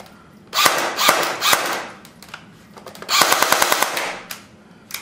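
An ICS MP5A2 airsoft gun running on a 7.2 volt battery fires two full-auto bursts, each a rapid mechanical rattle about a second long, separated by a short pause and ending in single clicks.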